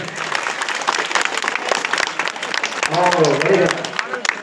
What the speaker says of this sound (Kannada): ಅಂಬೇಡ್ಕರ್ ಅಂದ್ರೆ ಎಷ್ಟು ಇಷ್ಟ ಅಂತ ಇನ್ನೊಂದ್ಸರಿ ಜೋರಾಗಿ ಚಪ್ಪಾಳೆ ತಟ್ಟಿ